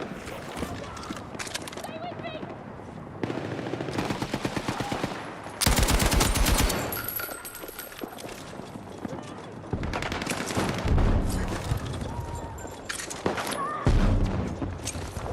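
Hostile machine gun firing in a video game battle, repeated rapid bursts of automatic fire at varying distances, some loud and close, mixed with other gunfire and intermittent speech.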